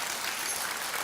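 Brief audience applause at a children's composition recital in a concert hall, a soft, dense patter of many hands heard from a distance.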